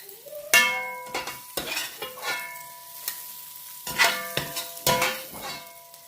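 Lardons being removed from a frying pan while making poulet bourguignon, with a soft sizzle under a string of sharp spoon and utensil clinks and scrapes against the pan, spaced irregularly and close by.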